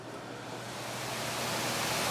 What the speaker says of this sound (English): there's noise coming from this fan here